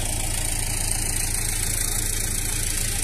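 Tractor engine straining on a steep hill as its wheels slip, a loud, steady, rough mechanical drone with constant low rumble throughout and no voices.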